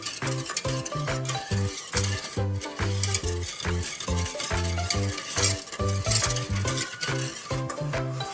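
A spoon stirring agar-agar pudding mixture in a pot, heard as rhythmic scraping strokes against the pot with a bubbling, sizzling undertone as the mixture heats, up close and without talk.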